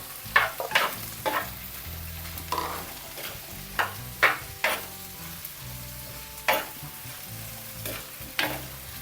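Potatoes go into a frying pan for prawn theeyal and are stirred through, a continuous sizzle punctuated by repeated clattering spoon strokes against the pan at a loose, uneven rhythm.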